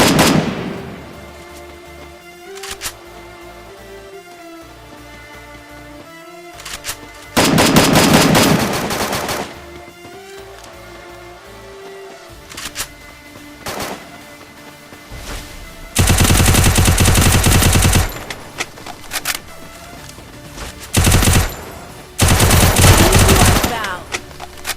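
An M249 machine gun fires in the Free Fire battle royale game. Loud, close bursts of rapid automatic fire repeat several times, with quieter in-game sounds and brief shots between them.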